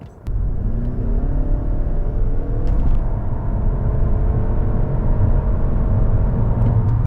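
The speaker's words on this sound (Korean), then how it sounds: "지금 악셀 조금만 깊게 밟아 볼게요" A Lexus ES300h hybrid sedan pulling away under a deep press of the throttle, heard from the cabin: a steady droning engine hum that holds a constant pitch while a low road rumble builds beneath it.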